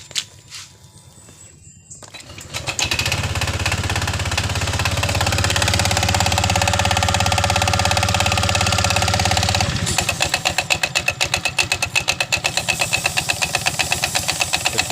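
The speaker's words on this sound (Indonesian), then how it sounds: "Kita hidupin motor." Honda Vario 125 scooter, noted for weak power and a rough-sounding CVT, cranks briefly and starts, then idles with a steady, loud drone before settling into a rapid, evenly pulsing putter close by.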